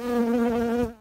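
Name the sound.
bee buzzing nearby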